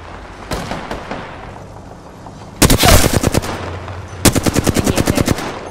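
Automatic gunfire in the Apex Legends video game: a few scattered shots, then two loud, close rapid bursts of rhythmic shots with pauses between.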